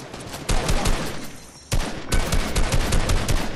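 Rapid bursts of gunfire in the Fortnite video game, loud and close, with two dense volleys separated by a brief lull.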